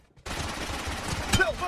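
Gunfire in a PUBG Mobile team deathmatch: a sustained, dense burst of shots kicks in abruptly after a brief quiet start and keeps rattling loudly to the end, with a sharper spike near the close.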